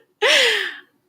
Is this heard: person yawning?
yes